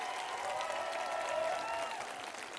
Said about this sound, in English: Keep those applause going for the Jazz Art Dance Theatre Company.